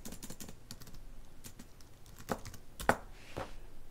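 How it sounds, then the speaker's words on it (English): Someone types on a computer keyboard in short bursts, with close, light key taps spaced irregularly and a sharper clack near the end, with no talking. "if I type free guide"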